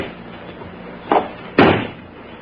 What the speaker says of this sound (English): Then stand aside while I release the brake and close the door.